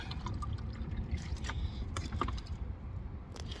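Water poured into a filter jug inside a truck cab makes a steady, continuous splashing stream for a few seconds over a low background rumble.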